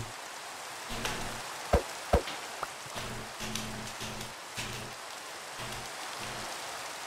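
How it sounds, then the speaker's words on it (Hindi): Heavy rain in Minecraft, a continuous soft hiss broken by a few sharp clicks and faint game tones, moderately loud and steady with no speech. "वैसे इतना बरसात होना नहीं चाहिए यार"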